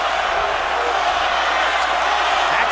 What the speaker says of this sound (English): Crowd on its feet in Omaha, cheering their man.